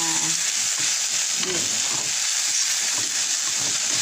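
French beans sauté in a hot pan with beef-flavor seasoning cube, giving a continuous close frying sizzle and hiss throughout, with faint stirring and no talk.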